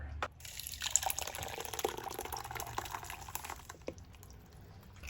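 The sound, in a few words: enchilada sauce being strained through a colander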